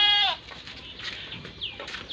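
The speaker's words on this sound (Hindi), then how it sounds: "बहुत ही हाई क्वालिटी वाली बकरी है।" Barbari dairy goat bleating: a loud, wavering bleat up front, then fainter bleats and farmyard noise trailing after, with no talking.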